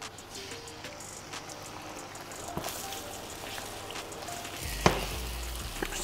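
Butter sizzles and crackles in a super hot pan for scrambled eggs, a steady frying hiss with sharper pops and a louder clatter near the end.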